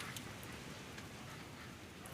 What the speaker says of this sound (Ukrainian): Було спокійно, пройшло 3 хвилинки і вже почався вітер, потім дощ